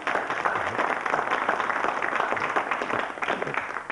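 Audience applause at a chancellor debate: a dense, steady patter of many hands clapping in a hall at moderate distance, sustained throughout.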